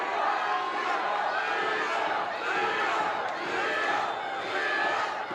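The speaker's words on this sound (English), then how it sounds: "Crowd trying to get Liam to" Spectators at a Caged Aggression cage fight roar and shout continuously, a dense crowd cheer that surges in waves, loud and close throughout.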